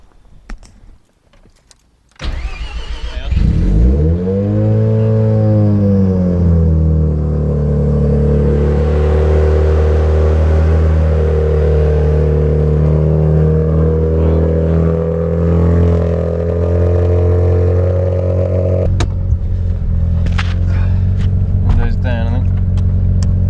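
Turbocharged Mazda FC RX7 rotary engine, converted from naturally aspirated, starts after a brief quiet moment, flares up in revs, then settles into a loud, steady, buzzy idle before cutting off near the end.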